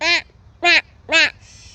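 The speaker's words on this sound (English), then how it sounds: "It's a crazy bird." Three loud, harsh cawing bird calls close by, evenly spaced and about half a second apart, followed by a faint trailing tone.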